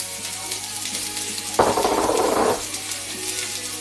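Garlic, peppers and onions hit a hot pan with a sudden loud sizzle that holds for about a second, then drops back to a low background crackle.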